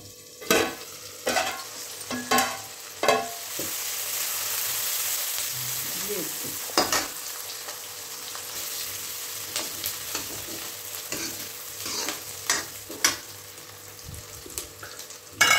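Onion, ginger and green chilli fry in a hing tempering, giving a continuous sizzle with a run of sharp clatters and scrapes of a spoon against the pan, loud and close, with quieter stirring between them.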